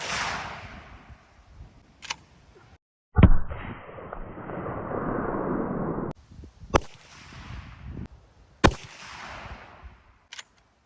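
A 30-30 rifle loaded with Hornady American Whitetail 150-grain rounds fires several sharp, loud outdoor shots. The biggest report is followed by a long decaying echo, and the others are sparser cracks with quiet gaps between them.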